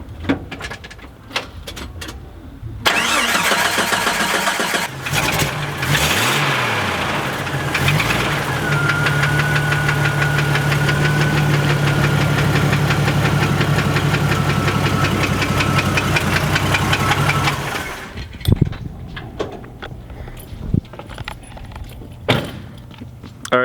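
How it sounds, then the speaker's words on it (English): A straight-six engine with rod knock runs steadily for about fifteen seconds, a continuous mechanical drone with a rapid rhythmic knock, then cuts off, leaving faint clicks and shuffling. "It's got rod knock, which if you're lucky you could just replace the bearings"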